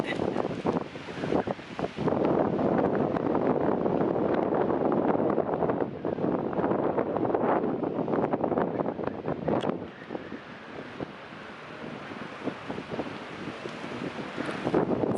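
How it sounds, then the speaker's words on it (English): Strong wind buffets the microphone in a constant loud roar with gusts, a steady rushing noise throughout and no talking. "It's like a windy spot."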